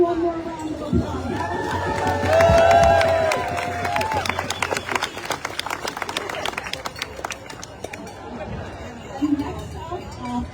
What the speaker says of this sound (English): Let's do one more round of applause.